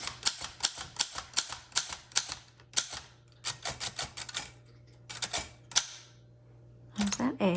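Typing on a 1914 Corona 3 antique typewriter with round glass keys, a close run of sharp mechanical clacks in uneven bursts with short pauses, ending in a louder clatter, while a person talks over part of it.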